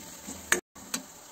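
Ingredients stirred in a pan while cooking ras-bhaat, a Uttarakhand hill dish: two short scraping strokes stand out against a low, steady background, with a brief silent gap between them.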